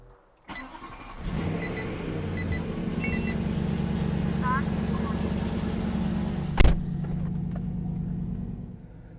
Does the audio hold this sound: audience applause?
no